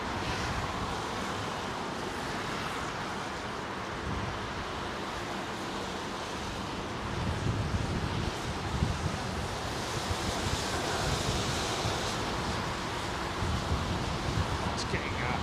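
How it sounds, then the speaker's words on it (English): Wind blowing outdoors at London Heathrow Airport, a continuous roaring rush buffeting the microphone and growing somewhat stronger and gustier toward the end. "It's getting warmer, but it's getting windier."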